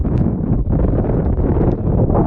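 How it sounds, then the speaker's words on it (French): Strong wind gusts roar over a racing Ultim trimaran at sea, a dense, loud, continuous rush buffeting the microphone with no pauses. "on passe de la pétole sans vent à des rafales violentes en quelques secondes"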